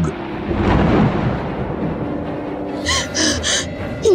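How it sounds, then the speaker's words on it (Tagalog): Rumbling thunder sound effect in a Tagalog audio horror story, a loud roll that swells and fades, with a gasping breath and faint vocal sounds following. "Pagkatapos ay gumuhit ang kidlat na sinundan ng dumadagundong na kulog."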